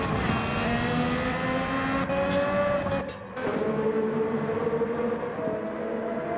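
Honda RA272 race cars race in Gran Turismo 7, their high engines whining loudly and shifting pitch as the cars run close together, with a brief drop in sound midway.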